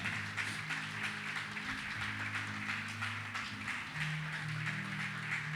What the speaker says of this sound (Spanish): ¿Cuánto le pueden dar un fuerte aplauso al Señor?